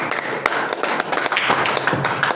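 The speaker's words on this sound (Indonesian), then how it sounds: "Aplaus untuk Pak Hasbi ya." An audience applauds for Pak Hasbi, a steady patter of many hands clapping at moderate volume throughout.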